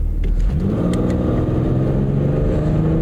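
A Buick Regal, a large car with a small engine, accelerates hard from standstill toward 100 km/h, its steady mid-pitched engine note climbing through the gears, loud and close from inside the cabin.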